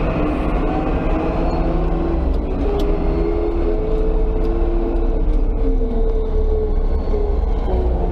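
An LW300F front loader driving and manoeuvring, its diesel engine giving a loud, continuous drone with slowly shifting tones as it changes speed. Faint clicks and rattles sit above the engine, and no one talks.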